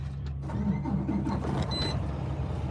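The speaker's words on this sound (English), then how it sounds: "You hear that truck sound?" Truck engine starting, a brief cranking and turning-over rumble with a mechanical whine, heard at moderate distance and under no talking.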